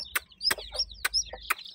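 A hen clucks at close range with sharp, loud, broken clucks in a quick irregular rhythm and no talking over them.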